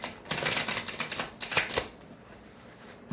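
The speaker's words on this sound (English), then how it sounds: "2 more shuffles." A deck of cards being shuffled repeatedly, with rapid riffling bursts close by that stop partway through, leaving quiet after.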